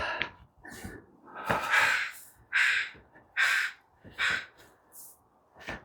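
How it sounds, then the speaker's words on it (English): Crows cawing outdoors in a series of loud, hoarse calls, several overlapping bursts spaced through the stretch, with faint breathing between them. "Crows are starting to get talkative."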